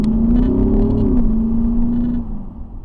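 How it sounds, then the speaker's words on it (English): Audi SQ8 launching hard from a traffic light, its engine roaring loud and close with a rising then steady drone as it pulls away, fading slightly toward the end. "So the SQ8 sounds actually really good off that dig, off that light."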